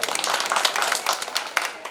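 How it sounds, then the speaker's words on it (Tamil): Audience clapping together at a Tamil pattimandram debate stage event, a dense steady patter of many hands sustained throughout without pause. "நான் சொல்றது நியாயமா இருந்தா எல்லாரும் ஒன்னா சேர்ந்து ஒரு முறை கைத்தட்டு கொடுங்க"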